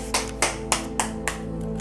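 A game show studio audience claps for a contestant as a few distinct, evenly spaced loud claps ring out over a low, steady music bed.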